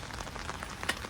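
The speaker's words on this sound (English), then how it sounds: "So it's raining." Steady rain falls outdoors in a light, even patter with a few sharper drops standing out, heard alone with no talking.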